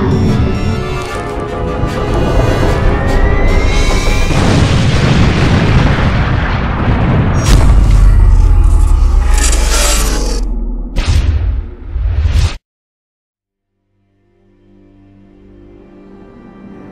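A huge explosion in a Minecraft film roars as a long, loud rumbling blast with crackling debris. It fades over several seconds, then cuts to sudden silence before quiet ambience returns.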